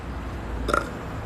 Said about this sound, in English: Oh, you want me to burp on command?